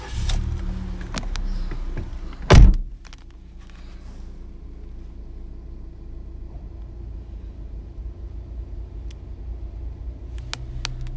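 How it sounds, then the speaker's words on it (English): Electric front windows on a Ford Fiesta hum briefly, a single loud motor burst about two seconds in, heard close up inside the car over a low steady cabin rumble, with no talking. "Electric front windows."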